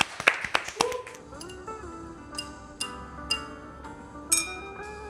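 Several sharp claps ring out as background rhythm at a casual Korean drinking-show gathering, mixed with clinking glass taps and soft humming, moderately near and fairly faint.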